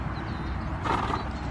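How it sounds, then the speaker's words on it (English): A calm horse stands close by, giving a soft snort or whinny around the midpoint over a steady outdoor background with faint shuffling, and no one speaks. "She's a gorgeous, gorgeous, gorgeous horse."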